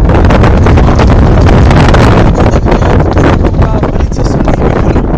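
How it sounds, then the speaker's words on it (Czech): Violent gale buffets the microphone outside an apartment building in Staré Sedliště during a windstorm, producing loud, continuous roaring rumble with constant gusty pulsing for the whole stretch. "velice silný vítr"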